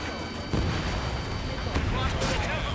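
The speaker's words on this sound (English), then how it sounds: "Strider 1, missile launched." Missile launches and explosions in the Ace Combat 7 video game, with a constant loud roar of combat noise broken by sharp booming bursts, under faint radio-style voices.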